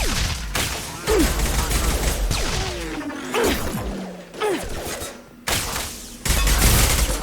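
Gunfire against hostile mechs in Mass Effect 2, loud bursts of shots mixed with whooshes and impacts, coming in uneven waves with short lulls between volleys.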